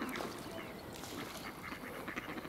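A duck quacking near a pond in Milngavie, Scotland, with a few short calls rising over steady outdoor background noise.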